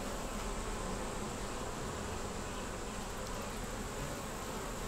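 Honey bees buzz continuously around a hive frame during an inspection of queen cells, a loud, dense, steady drone close to the listener with no voices.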